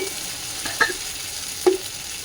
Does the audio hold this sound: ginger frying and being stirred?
yes